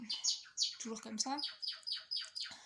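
Pet birds chirp indoors in a quick run of bright, repeated calls that grow steadier toward the end, heard close and moderately loud over someone speaking French.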